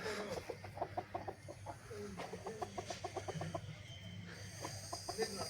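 Desi village chickens and a rooster cluck in a rapid, repeated stream of calls at close range over steady background noise, without a break across the whole stretch.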